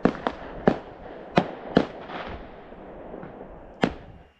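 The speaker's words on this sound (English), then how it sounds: "Rock and Metal Invasion sparing no expense to put on some fireworks" Fireworks bursting at an outdoor show, a run of sharp, loud explosive cracks at uneven intervals: several quick bangs early, then a few spaced blasts, with crackle and rumble trailing between them.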